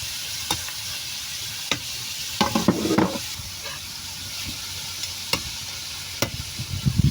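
Pork browning in a pan for Filipino adobo gives a steady close sizzle, broken by scattered clinks and scrapes of stirring, with a brief cluster of stirring clatter in the middle.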